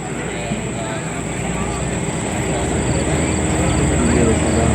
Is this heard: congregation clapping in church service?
no